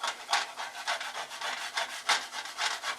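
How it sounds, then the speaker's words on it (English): A utensil scrapes cooked residue off a pan on an electric stove, quick rhythmic rasping strokes repeating about every quarter second, close and crisp with no talking. "it's also pretty important to scrape all the stuff off"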